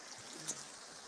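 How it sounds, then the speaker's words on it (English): Water running in a stream through ancient woodland at a Roman quarry, a soft continuous wash that stays steady and fairly faint, with one brief brighter splash partway through. "I'm just listening to water"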